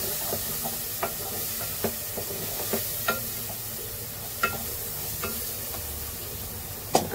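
Green onion-coconut masala being stirred into mutton in a pan, with a soft continuous sizzle and frying hiss under intermittent scraping and spoon clicks against the pan, close and moderately quiet.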